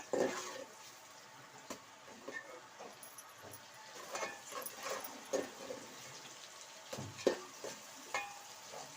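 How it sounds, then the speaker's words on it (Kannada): Onions frying in a pan for plain tomato rice bath, with a steady soft sizzle and occasional spoon scrapes and stirring clatter at moderate distance, with no talking. "ಈರುಳ್ಳಿ ಫ್ರೈ ಆಗಲಿ ಸ್ವಲ್ಪ"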